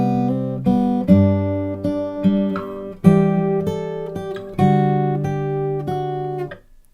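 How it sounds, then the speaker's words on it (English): Acoustic guitar playing measures 5 and 6 of a song: a steady sequence of ringing plucked notes and chord shapes, close and clear, about seven seconds with no talking. "Okay, so when we put together measure 5 and 6,"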